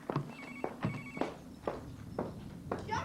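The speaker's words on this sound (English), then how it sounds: "The phone! The phone! It's ringing!" A telephone bell rings in repeated short bursts in a domestic setting, loud and close, with a faint thud of movement beneath it and no talking.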